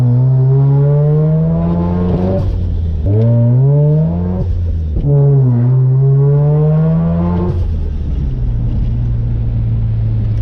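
A car engine revs repeatedly, pitch climbing in strong surges then dropping back, loud and close, ending in a steady idle-like drone.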